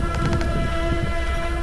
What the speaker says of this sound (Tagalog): May busina.